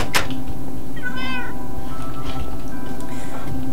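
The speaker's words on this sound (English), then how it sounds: "And I've got another cat." A cat in the video game Minecraft gives a single clear meow in the middle, with a sharp click just before it and a soft low background hum throughout.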